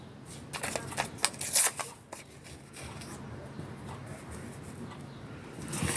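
Paper is torn by hand for scrapbooking, a few close, crisp ripping strokes early on followed by softer rustling and handling noise.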